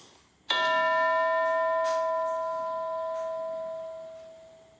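A single struck school bell rings out once, loud and close, then its bright metallic tone sustains and slowly fades in an otherwise quiet room.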